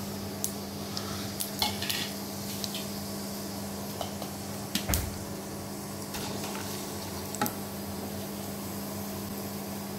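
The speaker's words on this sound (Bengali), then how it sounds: "একটু তেজপাতা ফোড়ন দিয়ে দিলাম।" Cumin, garam masala and bay leaf sizzle softly in hot frying oil, a low steady crackle punctuated by occasional clinks and scrapes of a spoon against the pan, with a faint hum underneath.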